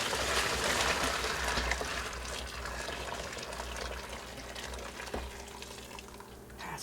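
Near-boiling water poured from a pot into a container for dyeing a lacrosse stick head, a steady close gush and splash running the whole time with a slight fade toward the end, no talking.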